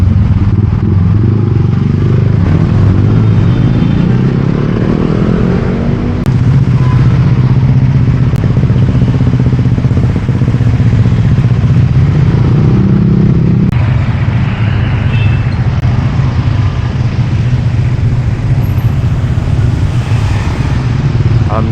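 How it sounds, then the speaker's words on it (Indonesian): Dense traffic crawls through a narrowed Jakarta street beside roadworks, with motorcycle and car engines droning and idling steadily up close and occasional clatter, while a voice talks over it. "Jadinya di sini tuh jadi sering macet."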